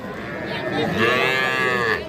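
A young bull calf at a cattle market lets out one long, loud, close moo that swells in the middle and tapers off, with no talk over it.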